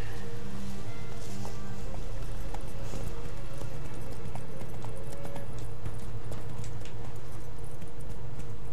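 Roach, the horse in The Witcher 3: Wild Hunt, gallops with steady hoof clip-clops over a low game soundtrack, the hooves rhythmic and fairly close throughout.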